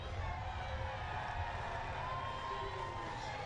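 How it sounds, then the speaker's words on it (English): Large crowd at a women's football league match between Perth Glory and Sydney FC, a steady distant roar and cheer filling the stadium beneath a commentator's voice. "A massive crowd."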